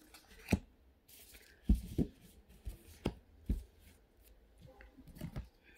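Tarot cards are picked up and laid down on a surface, making soft taps, slides and brief shuffling rustles spaced irregularly, quiet and close with no talking.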